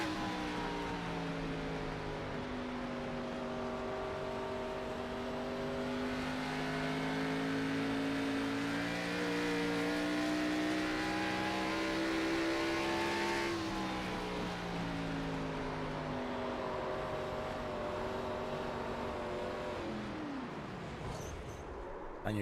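A race car engine from a racing video game set at Iowa revs and holds a sustained, rising whine that climbs, drops and climbs again, loud and continuous before tapering at the end.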